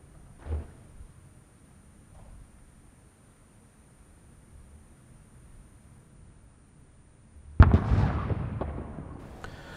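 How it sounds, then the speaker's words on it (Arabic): A single ceremonial artillery cannon shot booms out at an official state ceremony in Bahrain, a loud, sharp blast that rolls away in a long echo after a stretch of near silence. "وقد أطلقت المدفعية طلقة واحدة ثم وقف الجميع دقيقة صمت"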